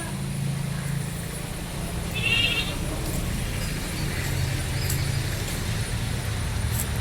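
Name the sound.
goats bleating at a livestock farm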